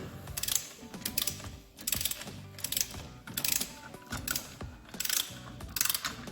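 An electric impact wrench tightens car wheel bolts during brake system servicing, firing in about six sharp, loud ratcheting bursts with short pauses between them, up close and with no speech.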